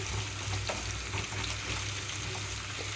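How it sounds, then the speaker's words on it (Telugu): Bitter gourd pieces fry uncovered in an open pan, with a continuous even sizzle and crackle throughout, joined by a low hum and a few light stirring scrapes. "మూత లేకుండానే వేయించుకుంటున్నాను వీటన్నిటిని కూడా"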